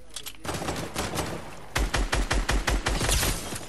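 Rapid gunfire in the video game Fortnite: a short burst of shots, a pause, then a louder, denser string of closely spaced automatic shots, sounding near and punchy.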